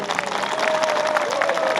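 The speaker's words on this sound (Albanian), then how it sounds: "Fako Fakaj, ju lutem ngreun këmbë dhe kërkoj një duartrokitje të fortë" An audience at a generational reunion meeting breaks into steady, dense applause that fills the room evenly, with a voice carrying faintly over the clapping.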